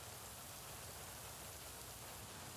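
Steady rain falling outside, a soft continuous hiss of drops on surfaces at low volume with no voices.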